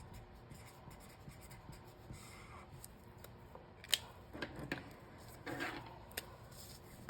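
Pen strokes scratch across paper during a journaling exercise, quiet and close, with scattered short scribbles and faint rustles and no talking.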